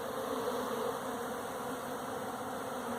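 Honeybees fan their wings at a hive entrance beside a caged queen, making a continuous, even buzzing hum up close with no other sounds.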